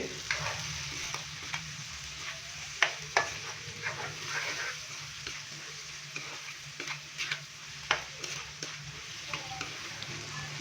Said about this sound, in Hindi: भिंडी डालने के बाद अच्छे से भिंडी को मिक्स करेंगे।